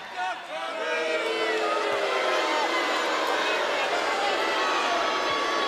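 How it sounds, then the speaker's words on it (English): A wrestling crowd at the Impact Zone during a no-disqualification title match roars continuously with loud, dense jeering and chanting that fills the arena from start to finish. "the reaction from the crowd here at the Impact Zone"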